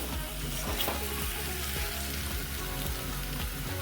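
Taro root (arbi) and spices frying in hot oil while being mixed, a dense, steady sizzle and crackle that stays loud and even throughout, with no voices.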